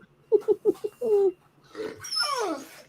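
A dog gives a quick run of short yips and barks followed by a longer whine and a higher squealing vocalisation, fairly close and clear with no talk over it.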